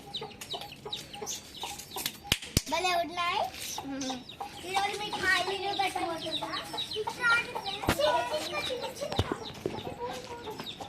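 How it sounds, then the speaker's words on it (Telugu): Chickens cluck and chirp nearby throughout, mixed with a child's and an adult's talking and a couple of sharp knocks. "ఇది మా చిన్న కోడి అన్నమాట"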